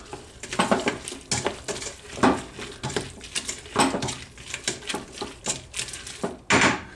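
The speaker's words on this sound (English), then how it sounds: "Give it a good stir." A spoon stirring and scraping shrimp spring roll filling in a pan with the flame off, a series of close, irregular clinks and scrapes of metal on cookware with no talk.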